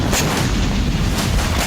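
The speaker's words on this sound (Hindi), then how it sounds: "ड्रोन धमाके होने से तेल डिपो के टैंकर फट गए" Drone strike explosions at a Ukrainian oil depot in Kharkiv, with fuel tankers bursting into flames: a loud, continuous rolling roar of blasts, with heavier booms rising out of the dense rumble.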